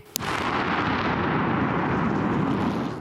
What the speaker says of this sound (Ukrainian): Вибухотехніки її дистанційно підірвали.